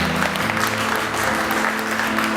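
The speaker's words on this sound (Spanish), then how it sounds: "Dale un fuerte aplauso, Señor." A church congregation claps loudly during a pastor's sermon on the gifts of the Holy Spirit, dense continuous applause over sustained music chords.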